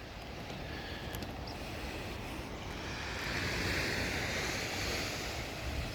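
Steady Pacific surf washing in below Chahue Beach at the Chahue Bay sea wall jetty in Oaxaca, Mexico, a continuous broad roar with wind buffeting the microphone and no speech.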